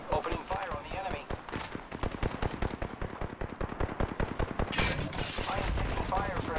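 Video game gunfire rattles in rapid bursts of close, loud shots, with a voice talking over the firing.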